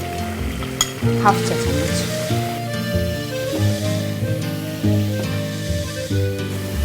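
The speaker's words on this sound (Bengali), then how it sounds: "আমার মশলাটা কষানো হয়ে গিয়েছে, মশলার উপর তেল ভেসে উঠেছে" Spice masala for a coconut duck curry frying and sizzling in oil in a pan, a steady crackling sizzle with stirring throughout, under background music, with a brief spoken measurement.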